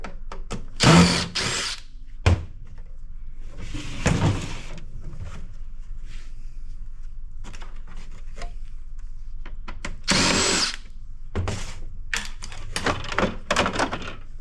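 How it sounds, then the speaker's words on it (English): A power drill backs screws out of an electric cash register in short bursts, several whirring runs separated by pauses, with a few clunks and handling knocks in between. "we'll unscrew some screws and see what that does for us."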